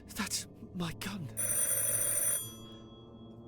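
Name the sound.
telephone ringing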